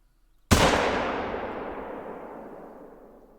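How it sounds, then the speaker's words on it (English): One sharp rifle shot from a .338 rifle fired at a moose at long range in the hunting game Call of the Wild, loud and close, with a long rolling echo that fades over several seconds. "We're going to see if we can't finally take a shot on this moose at 411 yards with a 338 rifle."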